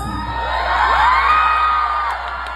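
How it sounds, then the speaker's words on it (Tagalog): A crowd of spectators at a live TV variety show's provincial visit in Kapampangan country cheering and whooping together, a swelling continuous roar of voices rising and sustaining near the middle before easing off. "pumalakpak po na may kasama yung nagsasabing maganda po si Lassie"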